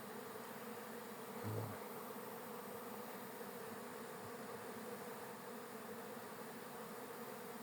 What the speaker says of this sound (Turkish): İkisi birlikte iki, iki yan yana kovan yavru uçunca durum vaziyet buna çıkmış.